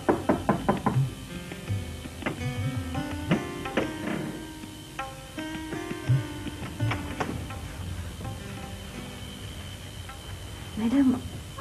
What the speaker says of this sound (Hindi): फहमी, दरवाजा खोलो।